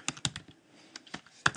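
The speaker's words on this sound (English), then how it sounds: "all you have to do is put the cursor in and you can start typing your" Quick, light keystrokes on a computer keyboard, a few soft irregular clicks in a short burst with quiet gaps between them, close and alone without any voices.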